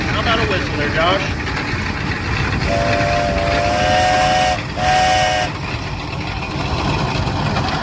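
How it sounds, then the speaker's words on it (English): A steam traction engine at a steam show gives a shrill whistle in two blasts, the second shorter, sounding over rumbling machinery, crowd noise and nearby talk. "How about a whistle there, Josh?"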